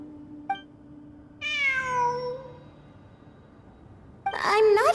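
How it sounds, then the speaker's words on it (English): A cat in the Genshin Impact video game gives a short chirp, then a longer drawn-out meow, followed by another loud meow, close and clear over quiet background ambience. "It really is a cat."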